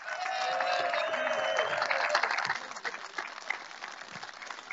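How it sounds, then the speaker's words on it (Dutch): A hall crowd applauds a champion basketball team at its title celebration, with dense, sustained clapping that fades somewhat after a couple of seconds and a tonal whistle-like sweep over it early on. "Nog één keer een groot applaus. Voor ons team."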